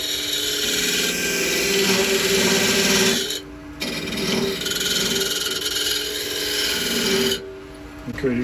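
A wood lathe turns a ball and vase piece as a cutting tool scrapes the spinning workpiece in a loud, continuous grinding rasp that cuts out briefly twice.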